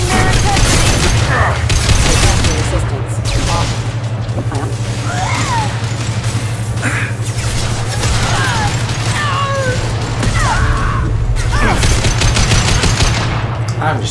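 Sustained automatic gunfire in the sci-fi shooter Mass Effect 2, a loud, dense stream of rapid shots and impacts running throughout over a steady low hum.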